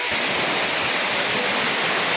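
A loud, continuous roar of a waterfall cascading in the men's bathing area fills the clip, even and unbroken from start to finish.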